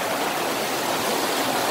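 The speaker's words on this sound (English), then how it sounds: "A river, so we approach." River water flowing steadily, a loud, dense broadband rush with no pauses or other sounds over it.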